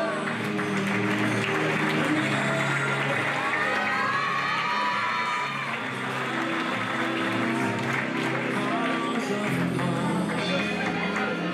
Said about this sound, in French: Applaudissez les trois.